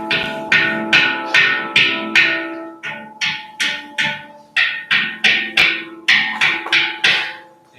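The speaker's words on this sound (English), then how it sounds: "you knock on the shell. So you created this sharper knock sound" Knuckle knocking on the steel shell of a handpan, a quick series of sharp, bright knocks in an uneven rhythm with ringing tones lingering underneath, close and fairly loud with no talking.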